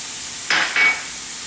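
Diced sweet onions and fresh thyme leaves cooking in extra virgin olive oil in a pan: a soft, steady sizzle, broken by two short scraping stirring strokes close by.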